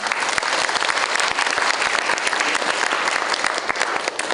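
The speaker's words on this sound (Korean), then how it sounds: "다시 한번 박수 부탁드리겠습니다." An audience at a university debate competition final applauds the two teams, a loud, even wash of clapping from many hands that holds steady throughout.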